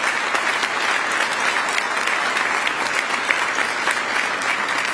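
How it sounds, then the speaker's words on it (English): Sustained applause from an audience at a city inauguration ceremony for newly elected local officials, steady dense clapping that fills the whole stretch without pause. "Take a moment to give yourselves a round of applause to say thank you for showing up."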